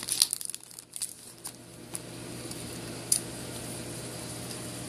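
Crinkly plastic wrapper of a Weiss Schwarz Project Diva booster pack being handled and torn open, with soft rustling bursts in the first two seconds and a sharp crackle near three seconds, then a faint steady background hiss.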